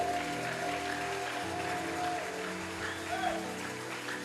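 Applause from the congregation at a church worship session acclaiming the Lord, steady and dense throughout, over a sustained musical tone.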